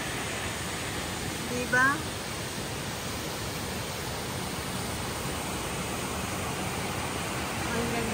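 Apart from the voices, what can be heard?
waterfall at Falls Park, Greenville SC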